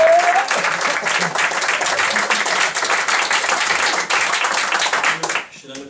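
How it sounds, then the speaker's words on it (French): A theatre audience claps steadily as Noël comes on stage, a thick wash of applause with a voice over it, fading away just at the end. "sous vos applaudissements"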